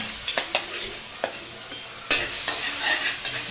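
Garlic sautés in cooking oil in a pan, a soft steady sizzle broken by a few stirring scrapes and clinks, one louder knock partway through, close and fairly quiet, no talking.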